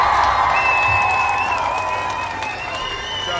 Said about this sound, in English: We want to give all of the Coochie Chagalia babies a round of applause.